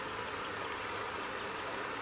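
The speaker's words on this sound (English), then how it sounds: "So we can see water coming out, dissipating right in here" Water trickling and flowing into an outdoor yard drain during a drainage flow test, a faint continuous wash of running water with no talk over it.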